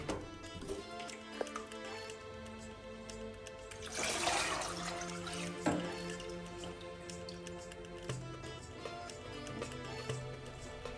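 A 3.5 gallon automotive parts washer pump circulates a mix of water and water-soluble degreasing fluid, giving a steady splashing, dripping flow with one louder gush partway through.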